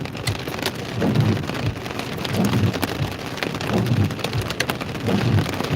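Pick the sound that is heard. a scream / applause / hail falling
hail falling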